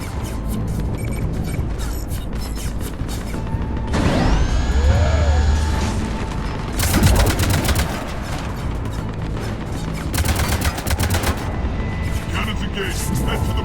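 Cannons in the Mass Effect 3 Omega DLC fire in heavy repeated blasts, with loud booming volleys around the middle and later, amid mechanical clanks, whooshing effects and background game chatter.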